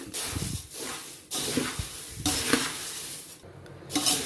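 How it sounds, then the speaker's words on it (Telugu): Spiced puffed rice is stirred in a pan with tempering, giving close, scraping swishes in uneven bursts with a faint sizzle under them. "అంతా బాగా కలిసే విధంగా మనం ఈ బొరుగుల్ని బాగా కలుపుకోవాలి"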